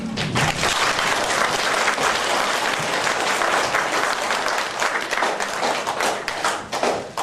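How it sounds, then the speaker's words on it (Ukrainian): An audience at an embroidery exhibition breaks into loud, dense applause for an honoured woman, unbroken close clapping with sharp individual hand strikes standing out throughout. "цій мужній жінці теж сьогодні низький уклін і ваші аплодисменти"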